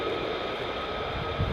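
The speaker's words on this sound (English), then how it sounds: "More F-15s coming out from the sidelines." F-15 Strike Eagle jets taxiing on a long runway at RAF Lakenheath produce a steady, moderately loud engine rumble and whine, swelling slightly near the end.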